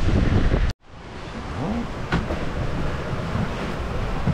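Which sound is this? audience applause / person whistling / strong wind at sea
strong wind at sea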